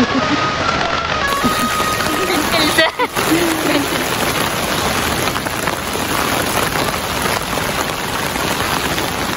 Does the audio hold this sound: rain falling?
yes